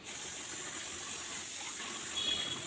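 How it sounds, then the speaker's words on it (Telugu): Water poured steadily into a pan for semolina (suji rava) cashew upma, a continuous close hissing gush with no break and no voices. "సో 2 కప్పుల వాటర్ అయితే యాడ్ చేస్తున్నాను."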